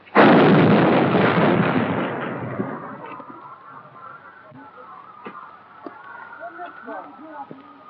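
A 280mm atomic cannon fired by a US Army crew at Aberdeen in 1954 gives one huge, loud blast at the start, then a long rumbling decay that fades into faint background noise with scattered small sounds.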